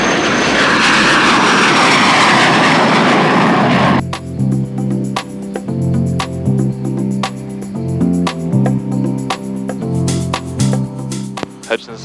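A Cessna 210 Centurion departs a snowy county airfield, a loud broadband engine roar for the first four seconds, then a cockpit radio call over the steady engine drone.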